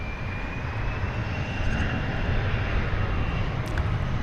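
A CRJ 701ER regional jet roars through its takeoff run at DFW Airport, a loud, steady broadband engine rush with a faint whine, heard from nearby.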